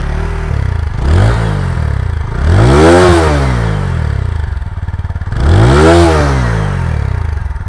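A TVS Apache 160 4V BS6 motorcycle engine revved hard twice, the loud exhaust rising and falling in deep roaring sweeps, close by, with steady idling between.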